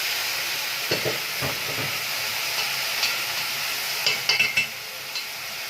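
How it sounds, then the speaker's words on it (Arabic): Onions fry in oil for homemade Egyptian koshari rice, a steady sizzling hiss broken by several clattering stirs and scrapes of a utensil against the pan, up close with no voices. "والبصل هنحمر كده."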